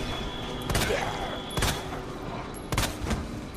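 Three spaced gunshots at a zombie in the 2019 Resident Evil 2 video game, loud cracking reports with short tails over a steady background of game ambience.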